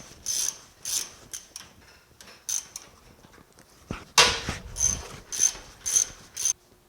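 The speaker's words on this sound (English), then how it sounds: "this is just going to take a lot of slow turning with a wrench" Wrench slowly working a suspension bolt out of a 1965 Malibu SS front suspension, a steady series of quiet, rhythmic ratcheting clicks with a sharper clank midway.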